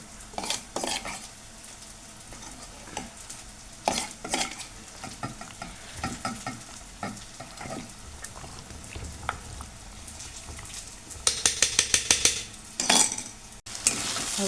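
Onion frying to golden brown in a pan for chicken dum biryani, with repeated metal spoon scrapes and clinks against the pan over a soft sizzle, the stirring growing busier and louder toward the end.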